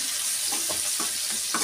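Oil sizzling steadily in a pan with coriander frying in it, a constant hiss with soft stirring clicks, close and moderately loud.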